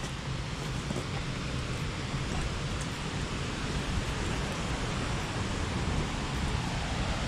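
Steady broadband rush of a river flowing beside a rental house near Yosemite in winter, a continuous close wash of water with no breaks and no voices.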